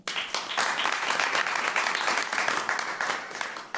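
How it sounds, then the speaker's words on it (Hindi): A village audience at a Brahma Kumaris spiritual gathering claps loudly and steadily throughout, a continuous crowd applause with no pauses. "बहुत जोर से तालियां बजाओ।"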